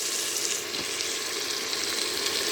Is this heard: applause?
no